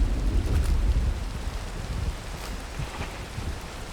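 A video game thunderstorm with rain: a low rumble of thunder rolls in at the start and fades beneath steady broadband rain hiss, with no voices.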